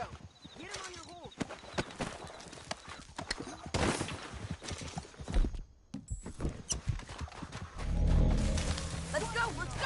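Horse hooves clip-clop at a gallop through a Red Dead Redemption 2 game scene, with a horse whinnying and shouted game dialogue over the rhythmic, fairly close hoofbeats.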